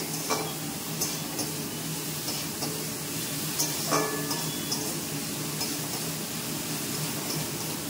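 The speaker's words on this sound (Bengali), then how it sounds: "ওদিকে সবজিটাও আমার ভাজা চলছে" Vegetables frying in a pan on a home kitchen stove give a steady, moderate sizzle, with faint stirring and a few light clinks of utensil against pan scattered through.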